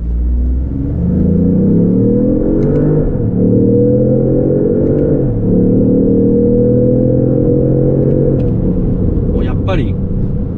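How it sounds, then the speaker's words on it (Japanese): A Lexus LBX Morizo RR accelerates hard in circuit mode, its engine note climbing loud and close through several gear shifts as a person talks over the roar. "もう一回サーキットモードで加速してみたいと思います。"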